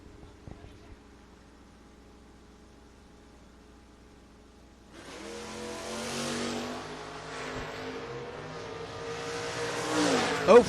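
A 1972 Chevy Nova drag race car at a drag strip, quiet idle rumble at first, then a loud engine roar that builds and holds with rising revs toward the end, under a track announcer's voice.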